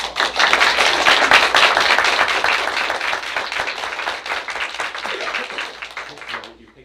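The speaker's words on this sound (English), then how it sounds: "let's give her a big round of applause" A school board meeting audience gives a volunteer a big round of applause, steady dense clapping for several seconds that tapers off at the end, with some voices underneath.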